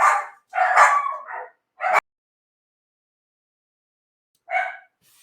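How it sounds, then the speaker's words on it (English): Dogs barking at a passerby: a quick run of three or four sharp, close barks, a pause, then one more bark, with no talking over them. "Somebody walked by, they barking. One dog barked, the dog barked."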